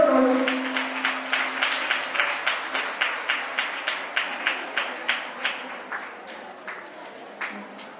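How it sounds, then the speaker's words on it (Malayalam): Steady applause from a school reunion audience greeting alumni at St Mary's CGHSS in Ernakulam, a dense run of many hands clapping that slowly thins toward the end, with a brief low hum at the start. "കയ്യടി കൂടുതൽ കൊടുത്തോളൂ"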